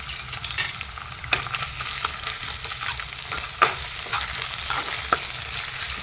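Ginger, garlic and chili paste fries with onions in a pan for a fish curry, a continuous close sizzle broken by the scrape and clink of a spoon stirring.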